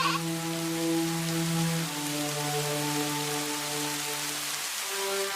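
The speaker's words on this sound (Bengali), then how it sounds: "বৃষ্টি হচ্ছে, ওই ঘরে তো পানি পড়ে।" Cartoon rainfall, a soft continuous hiss of drops on a surface, accompanied by sustained melodic tones that shift pitch partway through.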